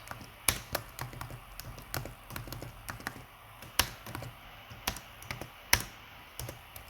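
Computer keyboard keys pressed during Python coding of a 2048 game, a run of irregular, crisp taps with a few sharper louder strokes, close and alone.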